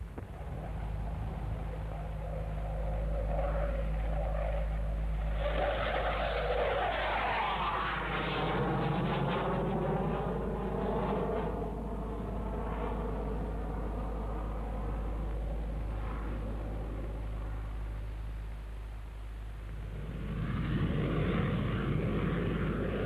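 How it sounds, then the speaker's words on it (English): A Hawker Hunter two-seat jet trainer roars past at the Farnborough air show, a loud sustained engine rush with a sweeping pitch shift as it flies by, fading slightly before swelling again. "there, in case anyone would care for a ride, goes the latest Hunter two-seat advanced operational trainer"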